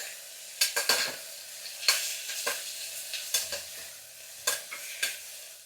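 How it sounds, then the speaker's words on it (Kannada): Tomatoes are stirred into onions frying in a pan, a spoon scraping and knocking against the pan in irregular bursts over a soft, steady sizzle. "ಟೊಮೊಟೊ ಹಾಕ್ಕೊಂಡು ಅದನ್ನು ಮಿಕ್ಸ್ ಮಾಡ್ಕೊತೀನಿ"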